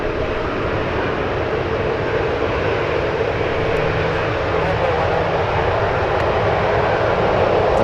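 Airliner engines at San Francisco International Airport hold a steady, loud broadband roar as they power up for takeoff, a continuous rumble with no breaks running through the whole stretch.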